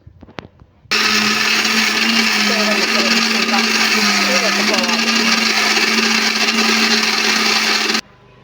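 A kitchen mixie grinder grinding soaked rice and water into idli batter, starting after a few clicks and running as a loud, steady whirring drone for about seven seconds before cutting off abruptly.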